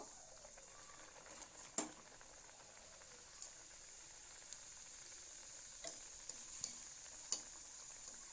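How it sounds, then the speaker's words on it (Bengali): A kochuri dropped into hot white oil in a kadai sizzles quietly and steadily, with a few sharp pops and spatters breaking through the soft, continuous frying hiss. "এবার আমি একটা কচুরি তেলের মধ্যে দিয়ে দেব।"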